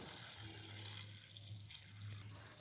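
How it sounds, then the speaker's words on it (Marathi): Water runs and splashes steadily close by as soaked sorghum grain is drained in a kitchen, a soft continuous trickle with no voices. "असे सगळं मी पाणी काढून टाकते।"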